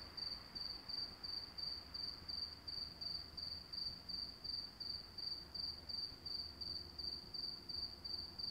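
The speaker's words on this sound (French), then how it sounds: "on pouvait entendre les grillons chanter tout au long de la nuit" Crickets chirping steadily through the night in a pulsing, rhythmic trill, alone and fairly quiet, with a faint low hum beneath.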